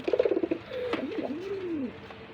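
A male pigeon on a Bangladeshi breeding farm coos close by: a quick series of pulsing coos, then a drawn-out rising and falling throaty call lasting about a second.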